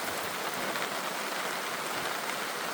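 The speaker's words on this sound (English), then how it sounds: "Now it started raining heavily and thundering." Heavy rain pours steadily outdoors in the Wabakimi wilderness during a thunderstorm on a canoe trip, a dense, even hiss of drops without a break and with no voices.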